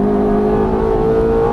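Ferrari F430 at full throttle on the Fontana race track, heard from the cockpit as a loud, steady engine drone with strong sustained tones that hold level through the short stretch, with no talking.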